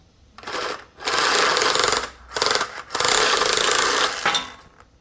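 A power saw cutting the end off a piece of scrap copper pipe, loud grinding buzz in several bursts separated by short pauses, close up and alone with no talking.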